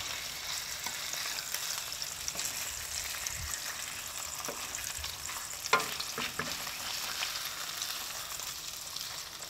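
Fish fillet, an Almaco jack, frying in a pan with a steady, even sizzle throughout and a few soft clinks and scrapes of cookware, no talking.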